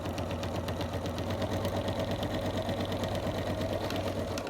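A sewing machine runs steadily throughout, stitching fabric for an overlocker cover, with a dense, continuous motor hum and rapid needle chatter at close range and no talk.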